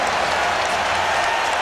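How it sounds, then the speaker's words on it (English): A basketball crowd at a game against the Lakers roars and applauds after a dunk, a dense, steady wall of cheering from a large arena audience. "Ricky Davis bringing this crowd to its feet, as does Darius Miles."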